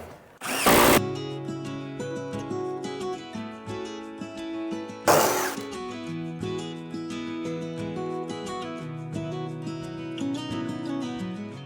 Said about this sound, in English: Let's drill one for the light switch going up